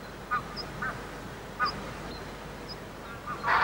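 Wild geese give a few short, scattered honks and quacks at moderate distance over steady background noise, with a louder burst of calls at the very end.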